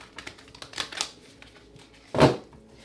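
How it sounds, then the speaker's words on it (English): A deck of tarot cards is riffle-shuffled close up, giving a run of light ticking flicks and then one louder, rushing burst as the cards snap together, with no voices. "One last shuffle."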